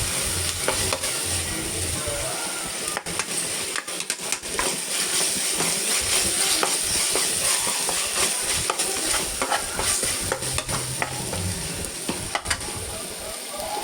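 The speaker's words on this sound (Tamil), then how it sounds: "எண்ணெயிலே வதங்கணும்." Food sautés in hot oil for sundal biryani, a steady dense sizzle with scraping stirs scattered throughout, close and continuous with no voices.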